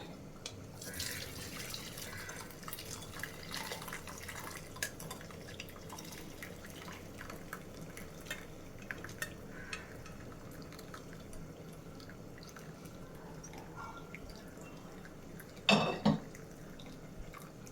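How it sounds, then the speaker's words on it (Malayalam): Cooked moringa soup is strained through a sieve into a bowl, a soft steady trickle and dripping of liquid with occasional light clinks of utensils, quiet and close, ending in a brief louder clatter. "ഇനി നമുക്കിത് ഒരു അരിപ്പയ്ക്കകത്തൂടെ അരിച്ചെടുക്കാം."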